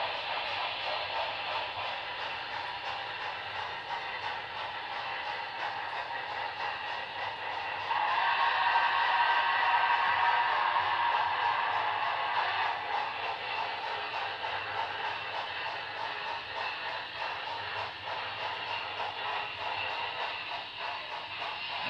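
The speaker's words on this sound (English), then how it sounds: "Alright, we're gonna bring over trains into the station." Model trains, among them a K4 locomotive, run into the station on a layout with a steady mechanical hum and whir that swells for a few seconds midway before settling back.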